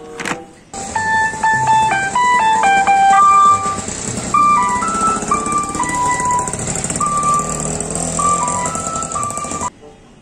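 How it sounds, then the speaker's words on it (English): A toy Mickey Mouse ice cream van plays its tinny electronic jingle loud and close, a bright stepping melody of beeping notes running steadily for about nine seconds over a faint mechanical hum, then cutting off. "Wow, it's a Mickey Mouse ice cream car."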